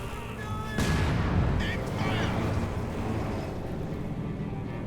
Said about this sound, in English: Bit of artillery there landing on the conscripts.